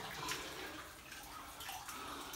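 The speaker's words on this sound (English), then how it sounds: "Got water dripping." Water drips and trickles inside an 1880s gold mine tunnel in Dahlonega, Georgia, a steady wet patter that echoes faintly and continuously.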